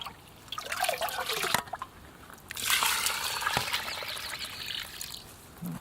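Water is poured into a bucket packed with weeds for anaerobic plant fertilizer tea, in two close splashing pours, a short one and then a longer gushing one, followed by dribbling trickles.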